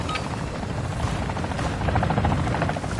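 Helicopter in the video game DMZ, a loud steady rotor thrum and buzz close by, continuous for the whole stretch with no talk.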